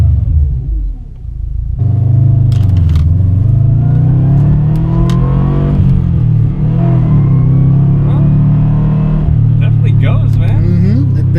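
A Subaru WRX accelerates hard from inside the cabin, its deep engine rumble climbing steadily in pitch through the revs and staying loud and close throughout, with some talk underneath.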